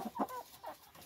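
Chickens eating capim-açu grass on a farm pasture give a few short, close clucks in quick succession, alone without talk.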